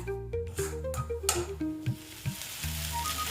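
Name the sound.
stirring and frying spiced cauliflower filling in a pan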